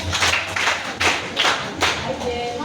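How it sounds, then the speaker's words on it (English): A high school class claps a quick patterned cheer, five or so loud bursts of many hands in a steady rhythm, close and filling the room. "please give them a 5 clap"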